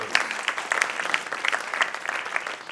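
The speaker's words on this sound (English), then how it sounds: "Give them a round of applause." A church congregation breaks into steady applause at a spring congregational meeting, many hands clapping densely and evenly at moderate volume for a few seconds, with no voices rising above it.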